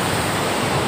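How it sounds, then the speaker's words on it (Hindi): Fast-flowing river water at Chuka beach makes a loud, dense, continuous roar in a very brief burst with no voices. "पानी इतना तेज पानी बह रहा है"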